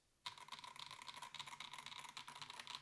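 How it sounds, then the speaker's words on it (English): Typing on an Akko 5075B Plus mechanical keyboard with PE foam inside, a steady run of light, rapid clacky keystrokes that starts abruptly and continues close to the mic with no talking. "They still have that same kind of PE foam Akko switch sound"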